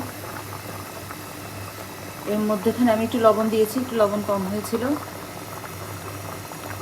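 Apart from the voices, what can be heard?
chicken liver curry boiling in a pot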